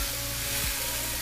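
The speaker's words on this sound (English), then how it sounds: "Now I'm just going to try and brown all the sides" Seasoned beef pot roast searing in an Instant Pot on its browning setting, a loud, steady close-up sizzle and crackle of frying meat with no talking.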